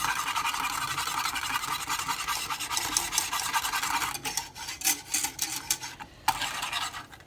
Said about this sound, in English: So make sure you get it all whisked together so it's all combined.